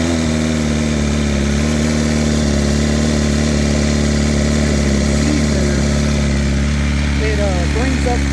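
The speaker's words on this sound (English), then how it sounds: "as soon as you start it up, and as you will hear, the high idle," A red 2023 BMW S1000RR motorcycle engine sits at a high cold idle, a steady, loud, close drone with a strong low hum that holds even throughout, with faint background voices.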